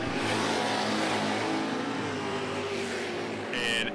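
A drag race car launches hard down the strip at Shadyside Dragway, its engine roaring loud and sustained at a distance under crowd noise, with no clear talk.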